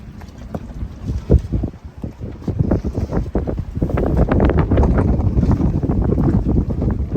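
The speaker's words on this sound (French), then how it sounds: "le vent s'est levé" Strong wind at day's end off a Greek island buffets the microphone in gusty, rumbling blasts that grow heavier and more constant, with water and boat noise beneath as a ferry approaches.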